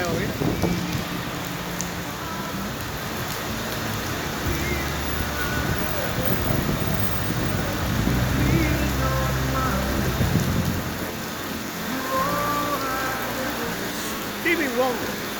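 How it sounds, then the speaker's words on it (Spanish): Steady heavy rain falls on a street at 42nd St and Madison Ave in New York, a dense continuous hiss with passing city noise, while people talk nearby throughout. "Agua de nuevo, mira."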